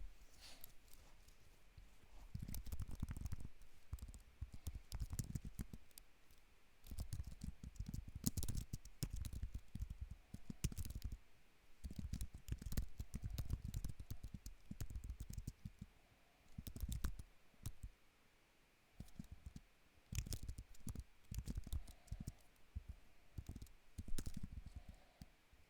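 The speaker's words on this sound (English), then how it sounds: "I am using a good old Apple Magic keyboard" Steady typing on an Apple Magic Keyboard, its low-profile keys clicking in quick irregular runs with brief pauses, close to the microphone and fairly quiet.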